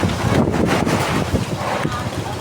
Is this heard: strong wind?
yes